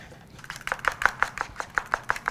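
A knife chops steadily through an avocado on a cutting board, about a dozen crisp, evenly spaced knocks that grow firmer as they go, close and clear with no talking.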